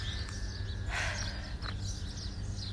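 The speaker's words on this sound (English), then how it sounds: "I can hear birds." Birds chirp in the morning at a ranch in Abu Dhabi, with a few short, high calls rising over a low, steady outdoor rumble, faint to moderate and some distance away.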